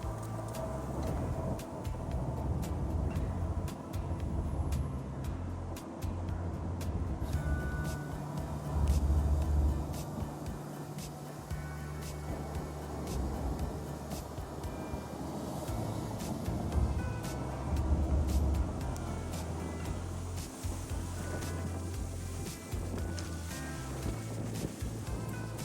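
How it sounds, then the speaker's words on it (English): A train passes along a river in New York, a long continuous rumble with rattling and clanking heard outdoors over wind buffeting the microphone. "This is the train I've been listening to for the last 2 nights."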